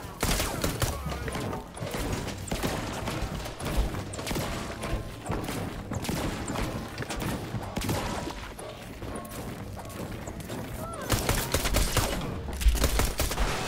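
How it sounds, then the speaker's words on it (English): Rapid bursts of fully automatic gunfire in Fortnite Battle Royale rattle almost nonstop, with sharp shots, clatter and impacts. The shots are fairly close and loud, and they grow heavier near the end. "I thought I picked up a fully automatic gun"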